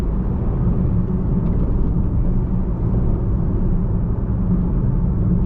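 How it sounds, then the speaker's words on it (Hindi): Steady low road and tyre roar inside a Maruti Suzuki WagonR CNG hatchback on the move, a dense continuous rumble with no talking. "रोड नॉइज थोड़ा ज़्यादा आ रहा है इस गाड़ी में, टायर का नॉइज है, इंजन नॉइज नहीं है"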